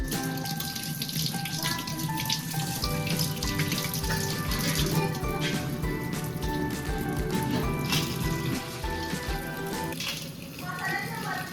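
Crabs are washed under running tap water: a continuous close splashing rush lasting throughout, with faint steady tones in the background.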